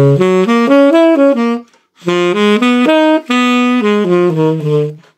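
An instrument plays the chord sequence of a jazz standard in two flowing phrases of stepping notes and chords, close and clear, separated by a short pause.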